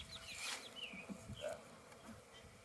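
Honeybees buzz around a hive being split outdoors, a faint scatter of wingbeat drones rising and passing near the listener over quiet background, without voices.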